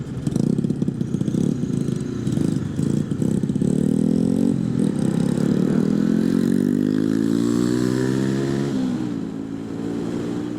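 A 2019 Honda CB500X motorcycle engine and exhaust rev up loudly and close by, the pitch rising steadily over several seconds before easing off; no one speaks.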